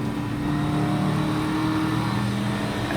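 A race car engine in a video game race holds a steady, sustained drone with faint pitch shifts across the few seconds, and no one talks.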